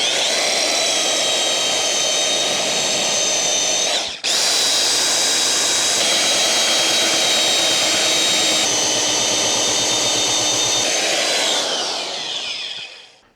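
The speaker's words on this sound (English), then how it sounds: "the really only good way of doing this is with a belt sander" A belt sander works a wooden stair railing with a loud, continuous high-pitched whir, briefly cutting out around four seconds, then resuming and spinning down at the end.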